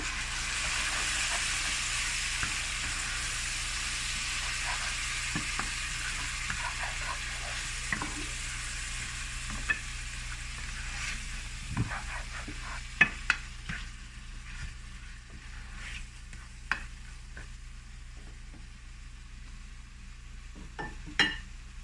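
Sausage sauce with lemon juice and a splash of hot water sizzles and reduces in a pan, a soft steady hiss with scattered pops and stirring clicks.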